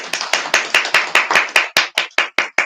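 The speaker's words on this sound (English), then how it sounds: "I can hear everybody clapping" At a school assembly, a single pair of hands claps close by in a quick, even rhythm, about fourteen sharp claps in under three seconds.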